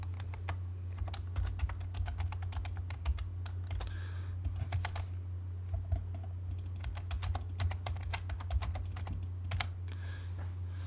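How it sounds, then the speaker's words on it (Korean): Quick keystrokes on a computer keyboard while entering a command in AutoCAD, close clicky taps in irregular bursts over a steady low hum. "LA를 입력해서 엔터 클릭."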